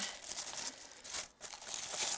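Crinkly packaging being torn open, a rough papery rip with crackling bursts and a brief pause midway, close by.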